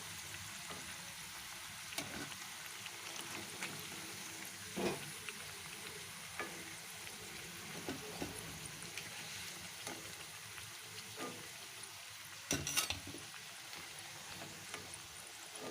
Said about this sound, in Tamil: மெதுவாக இதை எண்ணெயில் விடுங்க